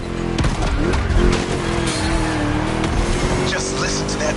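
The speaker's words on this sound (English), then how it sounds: "Just listen to that V8 like a chunky, down-tuned guitar riff" V8 engine of a race car in The Crew Motorfest, a loud steady roar that rises in pitch as it accelerates, with faint tire squeal, heard up close without pause.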